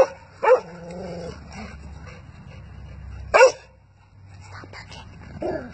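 A dog barks twice, sharp and close, with a low growl between the barks and faint background noise.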